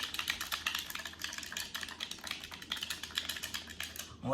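Rapid typing on a computer keyboard, a dense stream of close, crisp key clicks rattling steadily without pause for several seconds.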